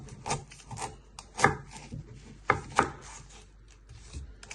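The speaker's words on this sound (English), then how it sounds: "Then you're going to chop it down the middle." A knife chops through an onion on a cutting board, a series of close, fairly quiet thuds and scraping cuts in an irregular rhythm, several sharper strikes standing out.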